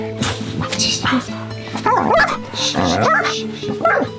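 A dog yips and whines in short, high bursts, with speech running underneath; the excited barking comes close and fairly loud.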